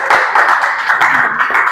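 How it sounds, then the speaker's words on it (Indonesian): A classroom audience gives a round of applause during a teacher's performance-assessment lesson, dense steady clapping from many hands lasting about two seconds, fairly loud and close. "kita beri aplaus dulu"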